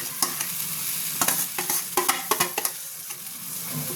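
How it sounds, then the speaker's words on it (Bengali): Chana dal and green peas stir-fried together in a pan, a low background sizzle punctuated by a quick series of sharp spatula scrapes and clatters, close and with no voices. "এবার আমি ছোলার ডালটা দিয়ে দেবো, দিয়ে এটাকে একসঙ্গে ভাজবো।"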